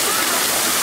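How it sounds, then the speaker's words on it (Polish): Water pouring over a dam in Turtul, a steady loud broadband rush filling the whole moment, close by with no pauses. "Fajnie jak ta woda przelatuje, wiesz?"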